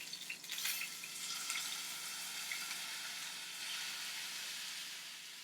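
Salmon fillets searing in a hot pan give off a steady, close sizzle and hiss that holds loud and even throughout, with a few brighter crackles near the start and no voices.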